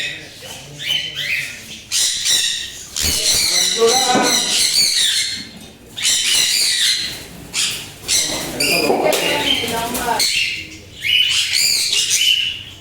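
Many birds at a bird farm chirp, tweet and squawk in a dense, overlapping chorus that continues throughout, close and fairly loud, with someone talking over them.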